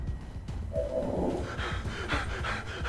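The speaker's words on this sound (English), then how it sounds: "Heavy breathing. He is still panicked." Rapid, heavy panting breaths from a panicked character in the video game XCOM 2, a steady close rhythm of quick inhales and exhales running throughout.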